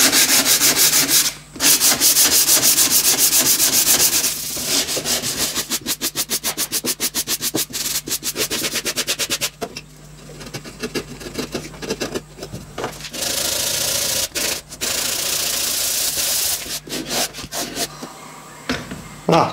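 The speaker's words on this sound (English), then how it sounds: "so I'm just going to do the rest by sanding." Steady back-and-forth scraping of sandpaper on wood for a clock, close and continuous with brief pauses between bursts of strokes.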